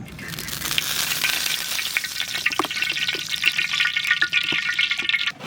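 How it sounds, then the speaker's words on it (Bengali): Climbing perch fish frying in mustard oil in a kadai, a loud, steady close-up sizzle that crackles throughout with a few sharp clinks and spatters. "কড়াই চাপিয়ে দিয়েছি, মাছটা আমরা ভেজে নেব"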